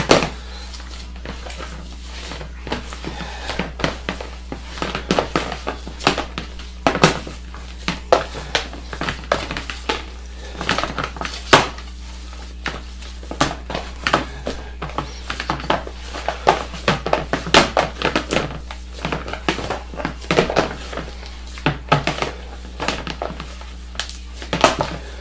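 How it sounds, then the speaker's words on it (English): Meatloaf mixture with black peppercorns is worked together in a bowl, heard as close, irregular squishing and tapping knocks against the bowl that repeat steadily over a low constant hum. "Mix that in"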